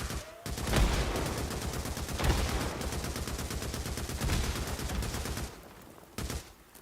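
In the video game Days Gone, rapid bursts of automatic gunfire are aimed at a horde. The shots form a near-continuous rattling volley with brief pauses and a short final burst.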